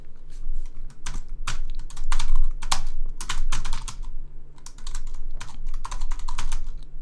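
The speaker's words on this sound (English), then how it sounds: "my typing tonight is total crap" Rapid, uneven keyboard typing in bursts of clicks and clacks, close and fairly loud, with brief pauses between flurries and a steady low hum underneath.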